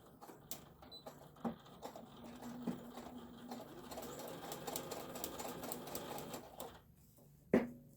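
Domestic sewing machine stitching through a bulky quilted hot pad, a steady mechanical patter running for several seconds between short pauses, with a louder knock near the end as the corner is pivoted.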